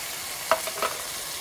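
Food frying in a pan with fish sauce and black pepper being stirred: a steady soft sizzle with a few quick scraping strokes of a utensil, close and fairly quiet.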